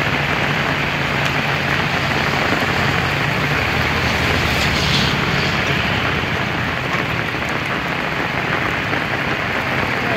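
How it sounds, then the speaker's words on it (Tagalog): Heavy rain pours down at the Batasan–San Mateo bridge in a dense, constant hiss, drumming steadily on surfaces without pause. "Lakas pa rin ang ulan."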